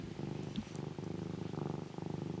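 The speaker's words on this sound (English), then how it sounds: "Can you hear her purring?" A cat purrs steadily up close, a low continuous rumble pulsing in a quick, even rhythm with no other sounds.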